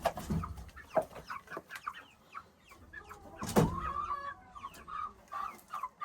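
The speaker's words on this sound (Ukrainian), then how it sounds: "А, це ще якісь кури." Several chickens cluck and squawk close by in an irregular chatter, with one louder burst partway through.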